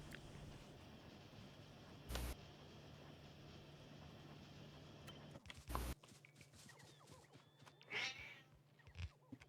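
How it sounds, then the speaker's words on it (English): Quiet room tone broken by a couple of short sharp knocks, then a faint cat meow late on with a few soft rustles around it, nobody talking. "Okay, kitty cat, just a moment."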